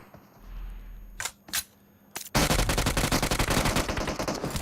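UMP submachine gun in PUBG Mobile firing rapid loud bursts, a couple of short sharp volleys followed by a sustained stream of fast automatic shots.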